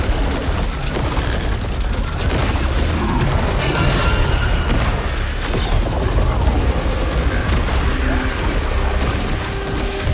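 Dense, continuous combat din from a boss fight in the game Saros: booming blasts and rapid gunfire layered over a busy roar, loud and unbroken throughout with no clear pauses.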